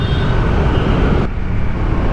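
Steady road traffic near Monumento Circle in Manila makes a dense, loud rumble of engines and tyres, continuous and close, with no voices.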